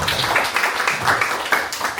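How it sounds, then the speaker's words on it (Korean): Audience applause at a seminar on intangible cultural heritage held by the Bucheon Cultural Center: a steady, dense patter of many hands clapping at moderate volume with no break. "박수 부탁드립니다"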